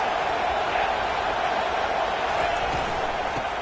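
A large stadium crowd at a college football game involving Troy roars in a dense, continuous, unbroken wall of noise from start to finish.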